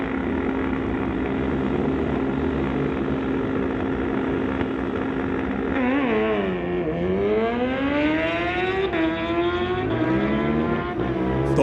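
Suzuki drag racing motorcycles launch off the line at a bike drags event, a loud sustained engine roar whose pitch climbs in rising sweeps through repeated gear shifts, heard at close-to-mid distance with no talk.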